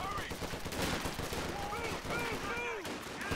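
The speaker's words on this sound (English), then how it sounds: "I'm gonna get a howitzer working on those MG's middle." Gunfire and howitzer shelling in a World War II-style war video game with Sherman tanks, sustained rattling shots and distant booms layered with whistling projectile sounds.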